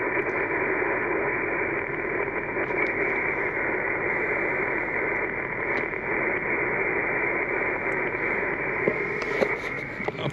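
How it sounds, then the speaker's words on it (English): A truck-mounted ham radio receiver in a Toyota Tacoma puts out steady, band-limited static hiss with a faint underlying hum, unbroken for about ten seconds. "there's a lot of static."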